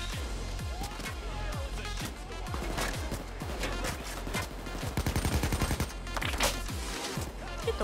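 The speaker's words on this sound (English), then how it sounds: "Who is shooting me?" Gunfire in Payday 2, with rapid rhythmic bursts of shots, loud and close, rattling continuously over several seconds amid crashing combat noise and faint voices.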